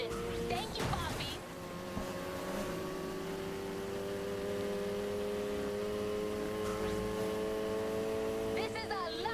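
A sports car engine in the Need for Speed Heat video game holds a steady, sustained drone with tonal harmonics after a brief rev at the start, fairly loud and continuous, with game sounds underneath.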